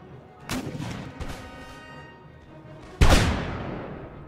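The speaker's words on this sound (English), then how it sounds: "Gunners are going to blast that ground right in front of the Swiss Grenadiers." Artillery cannon fire in the Empire Total War video game, a couple of booming shots with rolling echoes, the last blast loudest and sharpest near the end.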